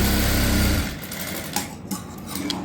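A sewing machine runs hard for under a second while stitching over a joint on a prince cut blouse, then a few light clicks and handling noises follow at close range.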